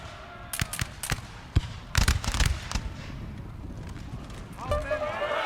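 Rifle volleys crack out in a Napoleon: Total War battle with Prussian forces, heard as a cluster of sharp overlapping gunshots that comes and goes over steady battlefield noise.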